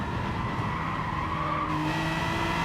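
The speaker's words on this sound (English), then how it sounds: "Oh, listen to the squeal." Car tires squeal steadily under a loud, continuous engine roar during laps on a track, a sustained high screech with no break.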